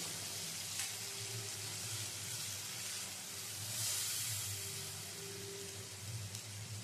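Ground spice paste dropped into hot oil tempering for a vegetarian paneer curry, giving off a steady, soft, close sizzle and hiss with no talking.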